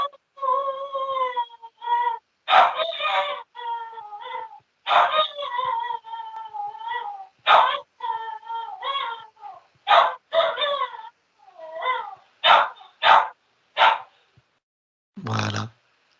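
A dog gives a series of short, strained whining and howling cries, one after another with brief silent gaps, close and fairly loud, ending with a low thump.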